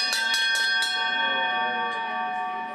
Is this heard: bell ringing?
yes